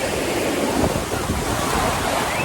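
Sea waves at a hot, sunny beach wash in steadily, a broad continuous surf roar mixed with wind buffeting the microphone, fairly close and without a break.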